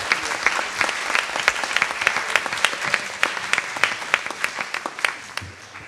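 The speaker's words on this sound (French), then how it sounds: "On peut tous les applaudir" Sustained audience applause at a colloquium on artificial intelligence at the Collège de France, with a dense, even patter of many hands that stays steady for several seconds and then eases slightly.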